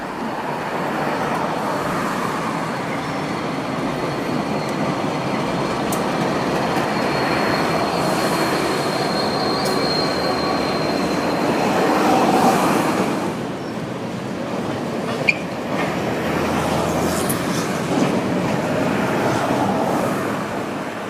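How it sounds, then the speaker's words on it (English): A Norfolk Southern freight train, including a former Reading switcher locomotive, rumbles steadily past at close range, a broad continuous roar of wheels and cars with a brief metallic squeal near the end. "a Norfolk Southern train rolls by including an X-Reading switcher running on what was once home rails"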